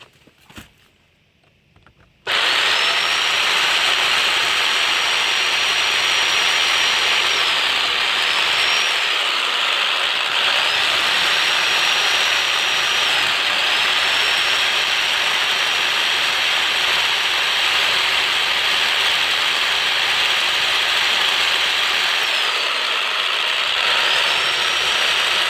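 Power drill boring into a brick wall to mount a retractable hose reel, starting after a short quiet pause and then whining steadily and loudly for over twenty seconds, with slight pitch shifts as the bit bites.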